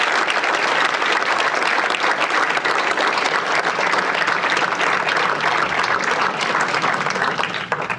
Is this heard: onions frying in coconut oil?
no